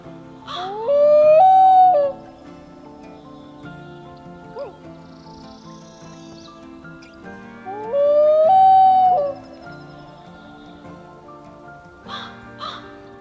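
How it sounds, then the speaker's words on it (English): Common loons call across a lake, two long, eerie, wavering wails about seven seconds apart with softer hoots and calls between them, rising clearly over a quiet background. "Common loons have one of the most famous calls in the bird world"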